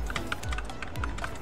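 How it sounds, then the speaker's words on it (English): Rapid keyboard tapping on a computer keyboard, one key pressed repeatedly along with mouse clicks while auto-recording a Roblox Restaurant Tycoon 3 session; quick irregular clicks, close and fairly loud, with no voices. "And now spam your E button while clicking and"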